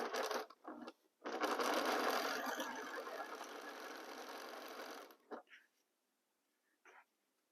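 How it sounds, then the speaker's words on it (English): Close by, a sewing machine stitches fabric in one sustained run of about four seconds, preceded by a couple of short starts and followed by a few faint clicks and quiet handling. "Need to align the fabric and start sewing."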